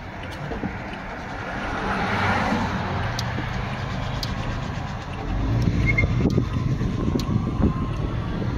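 A car driving along, a steady broadband road and wind rumble that holds for several seconds and swells slightly toward the end, with no voices.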